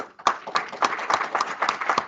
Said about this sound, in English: I suggest the audience to give her a big applause